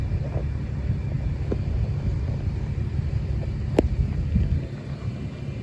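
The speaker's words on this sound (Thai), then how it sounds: "ลมแรง" Strong wind roars steadily right at the microphone, a dense, unbroken low rumble lasting the whole stretch with no one speaking.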